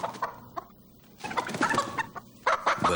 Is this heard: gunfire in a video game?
no